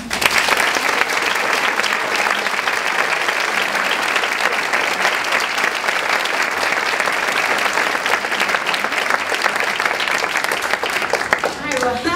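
An audience at Ford's Theater breaks into loud, sustained applause welcoming Cokie Roberts to the stage, dense clapping that carries steadily for about twelve seconds before easing at the end.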